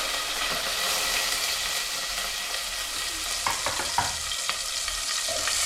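Sliced onions and green chillies frying in hot oil, a constant bright hiss of sizzling with a cluster of quick spoon scrapes and taps against the pan near the end, close-up and without voices.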